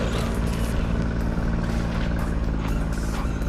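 A ZD Racing MX-07 RC monster truck running on 6S power drives hard with a loud, continuous motor whine and drone that holds steady for the whole stretch.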